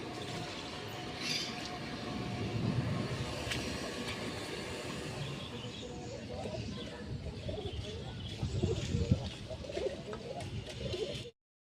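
Pigeons cooing softly and repeatedly nearby on a rooftop, mixed with rustling, shuffling and a busy background murmur.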